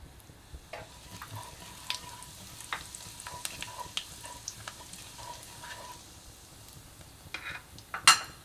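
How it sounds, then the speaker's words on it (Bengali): Whole cumin seeds and two dried red chillies sizzle in hot oil in a wok for a Bengali chicken curry: a steady, close crackle with the light scrape of stirring and a sharp clink near the end. "আমি কড়াইতে আরও তিন পলা তেল দিয়েছি, দিয়ে এবার হাফ চা চামচ গোটা জিরা আর দুটো শুকনো লঙ্কা তেলের ওপরে দেব।"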